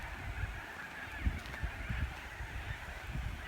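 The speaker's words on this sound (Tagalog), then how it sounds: "Naririnig nyo ba yung yung mga ibon?" A flock of geese-like birds honks from afar across an open field where kangaroos graze, with steady faint calls layered over a soft background hiss.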